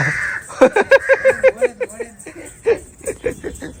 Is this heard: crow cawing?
yes